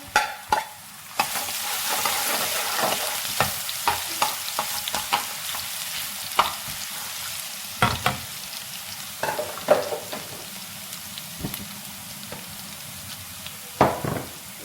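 Ginger garlic paste fries in oil in a kadhai, a quiet continuous sizzle punctuated by repeated sharp scrapes and clinks of a spoon stirring against the pan.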